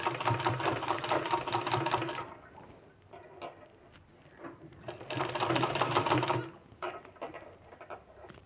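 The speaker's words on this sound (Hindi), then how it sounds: "अब दूसरा जो हमने गैप करके छोड़ा हुआ है उसको इस तरह से हमको सिलाई लगा देना है।" Sewing machine stitching a sleeve in two loud, steady runs of rapid needle clatter, separated by a short pause with light handling noises, heard close and without talk.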